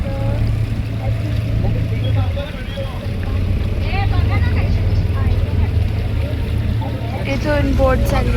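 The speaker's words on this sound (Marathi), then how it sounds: "इथून बोट चालली आहे." Boat engine droning steadily on the water route to Poovar Island in Kerala, a constant low hum running throughout with voices talking over it.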